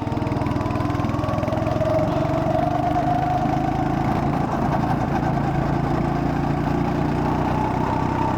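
A go-kart engine running during a lap on a track near the beach, a steady loud buzzing drone with a slight rise and fall in pitch, close and continuous for several seconds, no talk.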